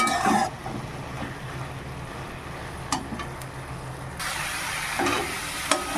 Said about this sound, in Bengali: তাই আমি একদম লো ফ্লেমে আস্তে আস্তে ভাজা করে